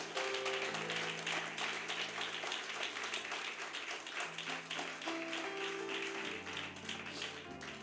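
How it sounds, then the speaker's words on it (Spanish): A church congregation claps in a dense, continuous patter of applause that runs throughout, heard fairly faintly under sustained music-like tones. "dé ese aplauso fuerte a Él"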